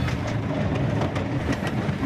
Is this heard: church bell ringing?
no